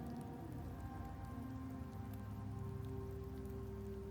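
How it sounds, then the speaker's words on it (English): Steady rain patters down in a video game town called Septimont, a dense even wash of drops hitting surfaces, with a low tonal music drone beneath and no one speaking. "The rains in Septimont never seem eager to leave this season"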